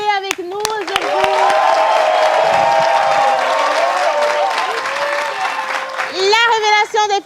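A studio audience at a lively French variety show claps and cheers loudly in a sustained, dense burst, with a voice speaking over it throughout and a final swell near the end.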